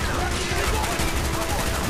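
Dense, continuous gunfire in Call of Duty Black Ops during a prison escape in Vorkuta, loud rapid shots filling the moment with voices mixed in.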